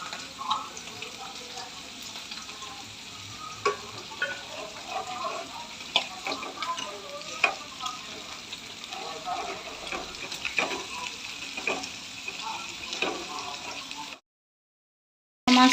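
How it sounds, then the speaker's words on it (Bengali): Pangas fish fries in a pan with a steady, close sizzle broken by frequent crackles and pops, continuing for a long stretch before cutting off abruptly. "দেখেন ভালো করে ভাজা হয়েছে, লাল লাল করে ভেজে নিচ্ছি আমি।"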